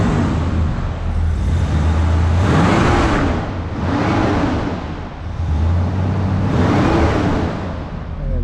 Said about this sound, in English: Engine sounds great. Rev it up just a little bit here.